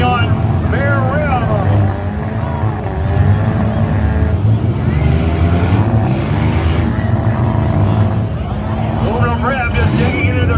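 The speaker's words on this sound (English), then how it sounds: "Oliver Hindenburg with the rubber coming off of that left front. Spinning on bare rim." A demolition derby car spins on a bare left-front rim after its tire rubber has come off, giving a dense, loud, continuous engine roar and grinding that runs the whole time under an announcer's talk.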